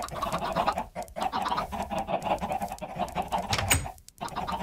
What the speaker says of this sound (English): And a couple of chickens escape, of course, in the process.